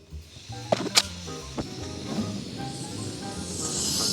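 A small portable camp stove being lit during a winter van trip in the Arctic: a few sharp clicks and knocks early on, then a soft gas hiss that builds steadily louder toward the end, with no talking.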